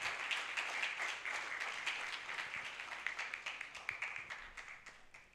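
An audience applauds a new speaker at a campaign launch event in Uganda, with a steady, moderately loud run of many hands clapping that lasts the whole stretch and thins slightly toward the end.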